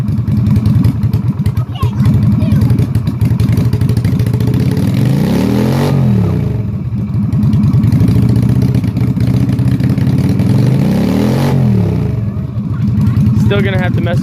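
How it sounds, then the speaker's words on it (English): A Yamaha Virago 250 (XV250 Route 66 edition) motorcycle engine runs loud and close, revving up twice in long sweeping swells that fall back to a rough, pulsing idle, all captured nearby. "You wanna rev it up, Zoe?"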